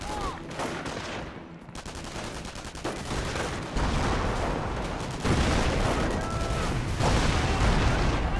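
Mortar and artillery fire in the strategy game Company of Heroes: dense, continuous battle noise with sharp gunfire bursts and booms layered throughout, growing louder in the second half, with a voice occasionally talking over it.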